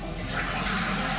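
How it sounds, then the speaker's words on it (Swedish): A home toilet flushing, a steady broadband rush of water filling the short clip at moderate loudness without any talking over it. "Du får också gå och spola."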